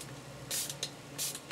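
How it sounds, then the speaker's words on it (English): Small hand sprayer misting water onto an oil stone for bookbinding tool sharpening, two or three short soft hissing spritzes in quick succession, close and quiet. "spray it on, and I get the right amount for what I want"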